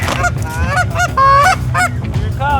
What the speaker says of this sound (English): We got the goose calls, we got the flag.